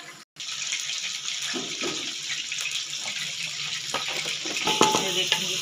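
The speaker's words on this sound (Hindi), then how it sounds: "ये देखेंगे चिकन भुना जा रहा है" Steady sizzling of chicken frying in spices in a pan with occasional stirring scrapes and clinks, continuous and close.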